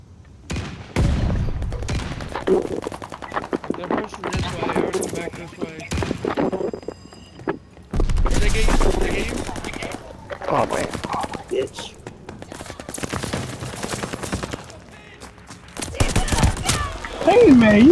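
Gunfire in Call of Duty Vanguard on the Sub Pens map: repeated sharp bursts and single shots, some loud and close, in uneven clusters, while players talk over voice chat.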